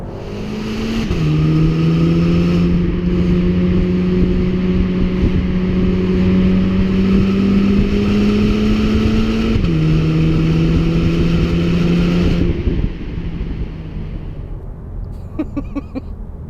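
A Cupra Ateca SUV's petrol engine droning through a road tunnel, a loud steady hum that rises through the gears with a brief dip at a shift, echoing off the walls before easing off near the end.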